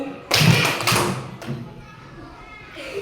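Children clap together once in a classroom, a sharp group clap followed by a second softer burst, with light chatter and room noise around it.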